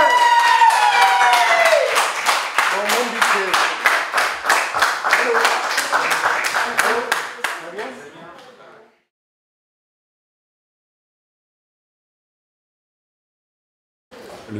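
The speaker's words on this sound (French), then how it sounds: "Applaudissez-le." On municipal election night, a crowd applauds Fabien Doucet with loud, rhythmic clapping in unison, with voices shouting over it. The clapping fades after about eight seconds into silence.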